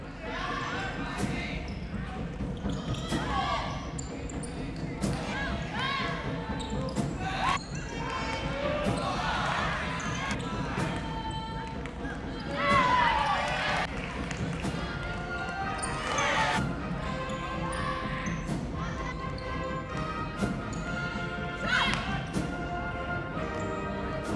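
High school girls' basketball game in a gymnasium, the ball bouncing in repeated dribbles and thuds amid sneaker squeaks, running footsteps and a noisy crowd with voices talking throughout.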